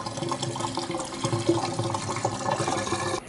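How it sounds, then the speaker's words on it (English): Water pours from a tap into a floor drain trap, a close, continuous splashing and gurgling fill with no talk. "I can just fill it up with water and that'll prevent the sewer gases from coming back in"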